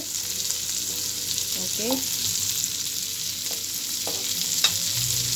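Garlic from Surigao frying in a pan until brown gives a steady, close sizzling hiss, with a few light utensil scrapes and one brief spoken word near the start.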